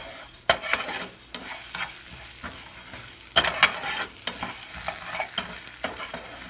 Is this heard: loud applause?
no